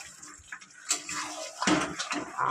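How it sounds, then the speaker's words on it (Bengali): Hot water poured into a pan of meat curry, a soft continuous pouring and sizzling wash that swells midway and stays steady to the end, with no talking. "এখানে গরম জল বসিয়েছি"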